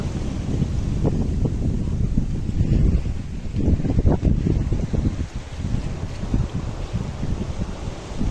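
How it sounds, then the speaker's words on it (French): Steady wind rushing over a sailboat at sea, with water sloshing against the hull and gusts buffeting the microphone. "Et puis le bateau roule beaucoup."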